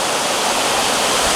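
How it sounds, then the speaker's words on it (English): Bering Falls, a high-volume waterfall in Glacier National Park, roars as a loud, steady broadband rush of falling water close by, with no voices. "third waterfall of the day. It's called Bering Falls. This one has the most water volume."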